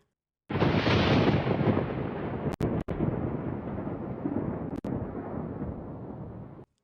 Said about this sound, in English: A retaliatory explosion blows the getaway truck off the road